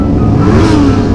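A motorcycle engine revs hard on a Jakarta street, a loud, continuous roar held close for just over a second with no talk over it.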